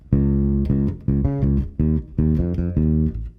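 Funky bass guitar riff bar with syncopated sixteenth-note plucks and short muted gaps, loud and close, played alone with no talking.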